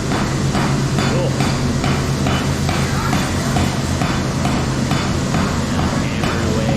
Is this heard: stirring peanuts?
no